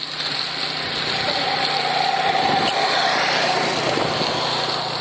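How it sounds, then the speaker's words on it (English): A snowblower runs outdoors on a snowy winter street, a steady buzzing engine drone at moderate distance that swells slightly midway, with no talking. "There's somebody using a snowblower."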